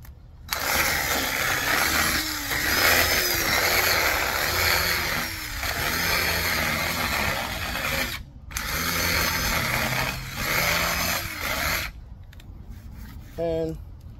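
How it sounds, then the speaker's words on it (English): A power drill fitted with a large bit bores into scrap 2x10 lumber, making a loud, gritty, grinding whir in two long runs separated by a brief stop, then trailing off near the end. "Again, let me go with a bigger drill bit here."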